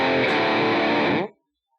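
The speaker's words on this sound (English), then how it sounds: "I like it, a smooth kind of distortion" An electric guitar through a distortion pedal rings out a single loud, smooth, saturated chord that sustains evenly for over a second and then cuts off abruptly into silence.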